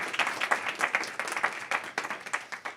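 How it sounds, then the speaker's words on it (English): A room of attendees at a diversity and inclusion summit claps together, a brisk, fairly close round of applause with uneven individual claps standing out throughout. "Let's give him a big round of applause."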